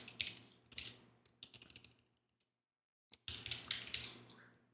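Quick bursts of keystrokes on a computer keyboard while writing code, close and fairly quiet, broken by a silent pause before the typing resumes.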